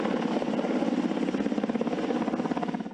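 Waterbombing helicopter with steady, loud rotor chop and turbine roar, continuous throughout and cutting off abruptly.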